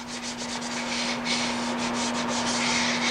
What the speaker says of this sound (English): Every one of them sanded down.